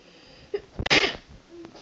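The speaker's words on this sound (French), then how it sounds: "Attendez, je vais éternuer donc ça va un peu bouger." One close, sharp sneeze with a quick inhale just before it, then quiet.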